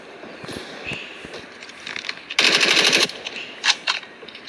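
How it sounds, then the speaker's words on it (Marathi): Rapid automatic gunfire in a Call of Duty ranked match, a dense loud burst of fast shots in the middle followed by a few shorter bursts, with game noise between them and no talking. "आणि बघा त्याचं गन बरोबर चालते का"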